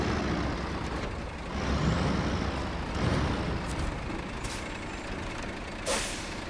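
A truck engine in the SnowRunner off-road driving game runs steadily, a dense rumbling drone with a hissing, air-brake-like edge that swells briefly near the end.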